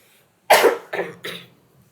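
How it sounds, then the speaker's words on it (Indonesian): Three quick coughs in a row, close and fairly loud, the first strongest, in an otherwise quiet room. "bentar, gue batuk dulu."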